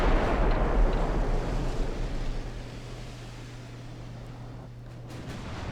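A video-game battleship line fires its guns, a heavy deep boom rolling into a long low rumble that slowly fades, with a faint steady engine drone underneath.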